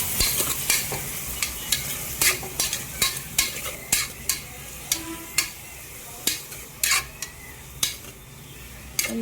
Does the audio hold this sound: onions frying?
yes